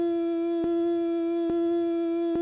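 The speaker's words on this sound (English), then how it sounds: "If I was gonna do a sample of my voice through the Chaos Pad, it would sound like this." A sampled voice loops through a Chaos Pad as a steady sustained hum, broken by three sharp, evenly spaced clicks at each loop point.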